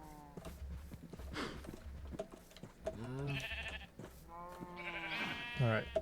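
Several sheep bleat in Minecraft, their wavering cries rising repeatedly over a busy farm scene with other animal noises and footsteps, a few calls close and loud.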